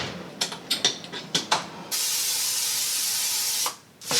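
Seasoning sprayed over chicken breasts soaking before grilling: a run of short hissing spritzes, then one long steady loud spray lasting about two seconds, a brief pause and another spritz starting.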